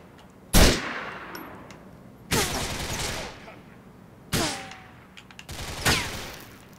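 Four loud bursts of gunfire from GTA IV, each a sharp crack with a ringing decaying tail, spaced about two seconds apart, with no other sound between them.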